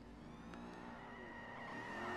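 A Mercedes C63 AMG in Forza 5 slides through a corner on the Top Gear test track, engine droning steadily with tyres squealing and the revs slowly climbing as it runs on, no talk.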